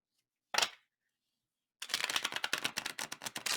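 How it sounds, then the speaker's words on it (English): A Prisma Visions tarot deck is riffled once, followed by a pause and then a rapid, close burst of cards flicking and shuffling. "which is a much easier deck to shuffle."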